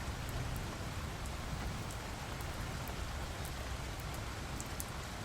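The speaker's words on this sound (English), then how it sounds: "we can't very well do it in the pouring rain now" Steady pouring rain hisses continuously, dense and even, with occasional sharper drips standing out above the wash.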